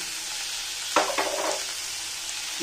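Onion frying in a pan, a constant close hiss of sizzling oil with a brief burst of clatter and stirring in the middle, no voice over it.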